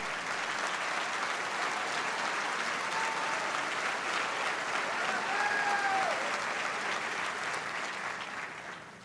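Sustained applause from a large church congregation at a worship event, steady and dense throughout, fading slightly at the end, with a few faint voices calling out over the clapping.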